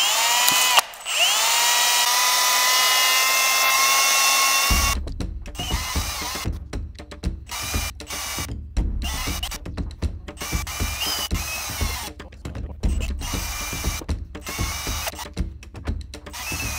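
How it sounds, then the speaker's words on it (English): A small Scotch-Brite wheel on a power tool polishes a transmission gear part for an Evo gearbox build, giving a close, loud whirring grind in repeated bursts after a steady hum, with brief pauses between passes. "hit it with this little Scotch-Brite wheel to kind of polish it out"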